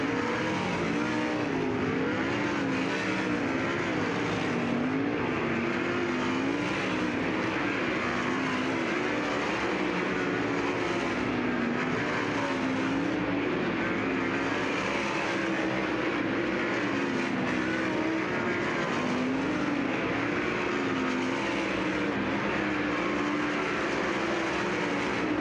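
Race cars in a hot lap session at Lucas Oil Speedway during the Diamond Classic make a continuous loud engine roar with rising and falling passes throughout.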